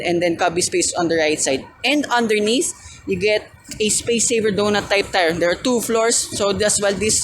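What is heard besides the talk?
No everyday noise stands out behind the speech.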